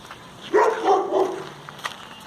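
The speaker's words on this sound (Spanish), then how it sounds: "mi madrina que está en la casa del perro que está ladrando" A dog at a house near a bonfire gathering lets out a short cluster of barks up close, standing out above quiet background.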